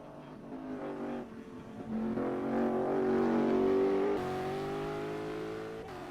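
Race car engine in rFactor's 8 Hours of Le Mans endurance race, droning steadily with rising harmonic pitch as it accelerates, loud and close throughout with no talk.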